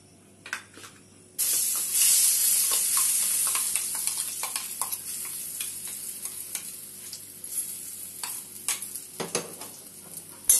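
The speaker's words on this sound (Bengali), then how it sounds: "ডাল বাটাটা দিয়ে আমি এটাকে ভালো করে নেড়ে নেব।" Lentil paste dropped into hot mustard oil in a kadai bursts into a loud, close sizzle that fades slowly, with scattered scraping and clinking of a spatula stirring through it.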